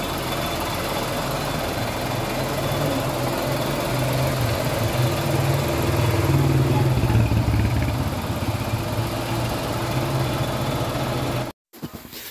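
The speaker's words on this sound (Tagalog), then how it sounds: "ito na yung makina ng Suzuki Espresso" Suzuki S-Presso car engine running steadily at a constant low drone for about eleven seconds, with a slight swell midway, then cutting off abruptly near the end.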